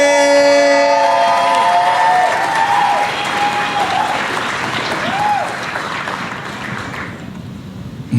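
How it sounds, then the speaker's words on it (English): Audience applause for a comedian at a stand-up comedy competition finals, loud and sustained from the start, then gradually thinning toward the end, with a voice talking over it. "Keep that applause going for your next comic, the very funny"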